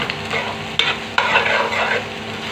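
Fried fish being stirred into pakbet in a pan: a steady wet sizzle under repeated scraping strokes, with two sharper clanks of the utensil against the pan, close and fairly loud with no voices.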